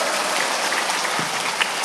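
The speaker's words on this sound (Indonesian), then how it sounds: "tepuk tangan." An audience at a religious gathering claps after a donation total is announced, a dense, steady wash of applause filling the whole moment without pause.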